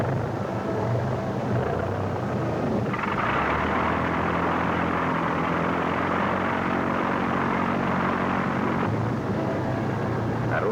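WWII glider tow aircraft moving out, a continuous droning propeller engine roar that swells louder midway and then eases, dense and sustained.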